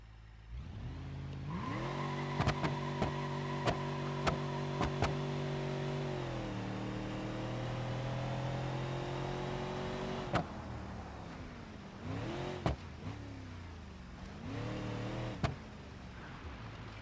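A car in the BeamNG driving game runs with failing brakes, its engine droning steadily with pitch shifts as it slows and speeds up, punctuated by sharp clicks and knocks, with no talk.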